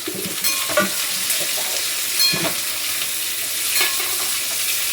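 Red pumpkin pieces fry with chilli, garlic and curry leaves in a pan, giving a continuous sizzle with a few sharp stirring clatters scattered through it and no voices.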